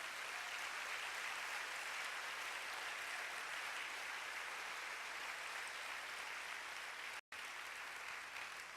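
Steady, dense applause from an audience at a church seminar on finances, sustained and fairly distant with a brief cut near the end and no talk over it.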